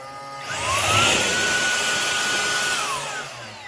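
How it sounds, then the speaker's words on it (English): A Shark StainForce cordless upholstery and carpet cleaner runs with a steady, loud motor whine that rises at start-up, holds for a few seconds and then winds down. "This is a cordless upholstery and carpet cleaner that makes it super easy to carry from room to room"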